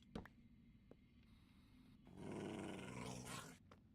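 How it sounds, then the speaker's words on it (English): A Minecraft wolf kept as an attack dog in the ATM9 modpack gives a low, rumbling growl lasting over a second, preceded by a few quiet clicks in the game. "At least I've got my attack dogs ready to protect me"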